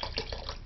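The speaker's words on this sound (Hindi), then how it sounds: "चावल के लिए अब पानी डालें" Water poured into a cooking pot for rice, a brief steady splashing gush, close and moderately loud.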